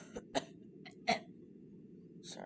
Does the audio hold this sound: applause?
no